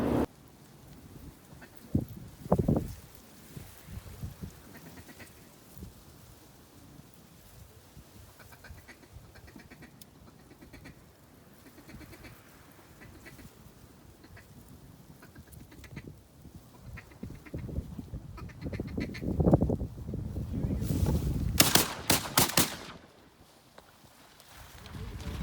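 Ducks quack during a hunt, with a flurry of calls and splashing near the end, under a steady outdoor hiss and intermittent talk; no clear gunshot stands out.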